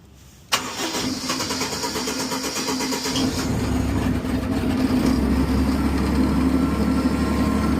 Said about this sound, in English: I'm gonna fire it up and test the pump, make sure there's no leaks or anything